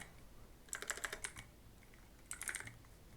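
Keystrokes on a computer keyboard, two short bursts of rapid clicking separated by a pause, close and fairly quiet with no talking.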